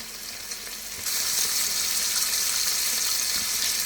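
A pork chop fries in a hot pan, its steady dense sizzle swelling suddenly after a quieter first second and then holding loud and continuous with no talk.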